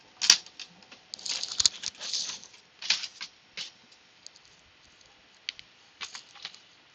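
Card bases get trimmed to size on a paper trimmer, a series of quick scraping, clicking slices in short bursts with pauses between, close and moderately loud.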